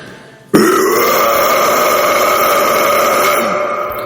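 A single sustained, gravelly scream starts abruptly and holds loud for several seconds before tapering slightly.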